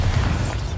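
Bombarda blasting spell going off in Hogwarts Legacy, a short, loud, dense low boom with crashing debris noise filling the whole moment.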